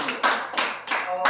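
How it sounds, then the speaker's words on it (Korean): An audience at a Korean religious gathering claps in unison, with about four loud, evenly spaced claps heard close. "박수!"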